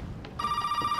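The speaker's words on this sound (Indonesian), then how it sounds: "Ah telepon kan?" Telephone in Resident Evil 7 starts ringing abruptly, a steady electronic bell tone sustained and fairly loud after a brief moment of low background rumble.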